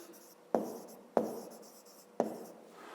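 Pen on paper in a fifth-grade maths lesson gives three quick scratchy strokes at roughly even intervals, close and fairly quiet, with no talk over them.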